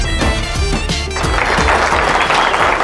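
Applause breaks out at a family birthday and 50th wedding anniversary celebration, starting after a brief tonal passage and swelling into a dense, steady wash of clapping that lasts to the end.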